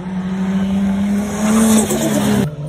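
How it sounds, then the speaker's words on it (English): A Toyota Supra drifting, its engine droning steadily with tire squeal before the turbo spool ends in a sharp blow-off burst near the end, loud and close. "Bro, that turbo spool and blow off is crazy."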